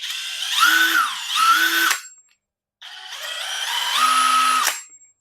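A budget cordless impact wrench runs in two close bursts of motor whine, its pitch rising and falling with variable speed, separated by a short silent pause.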